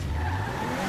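Tires on a Zion Classic sports car in GTA Online squeal in a steady, loud skid with engine rumble underneath, continuous and close, with no talking.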